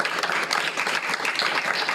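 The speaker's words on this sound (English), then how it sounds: "So a round of applause for our wonderful" Audience applause at a school district board of education meeting, steady dense clapping from a room of people, loud and continuous throughout with no talk over it.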